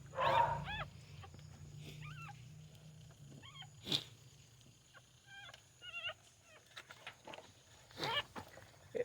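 A stray dog on a roadside gives repeated high, wavering whimpers and short yips in uneven bursts, fairly close over a low background hum, with brief quiet gaps between cries.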